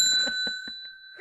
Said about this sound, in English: Now the cause for that ring of the bell, I will share with you.